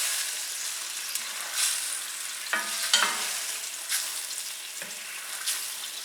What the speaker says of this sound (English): while the liquid bubbles, take a wooden spoon or spatula and scrape up the little stuck-on bits of salmon